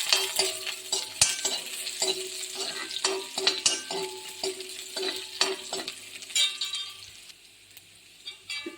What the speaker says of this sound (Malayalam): ഇച്ചിരി കറിവേപ്പിലയും കൂടെ ഇട്ട് കൊടുക്കാവേ അപ്പം നമുക്കൊന്ന് ഇളക്കി കൊടുക്കാം